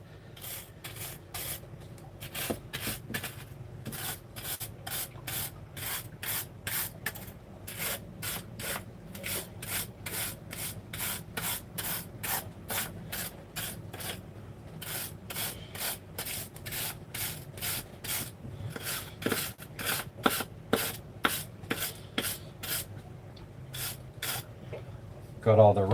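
Rust being scrubbed off a metal boat part, a long run of rapid, regular rasping strokes, close and fairly loud, with the rhythm briefly breaking and picking up again.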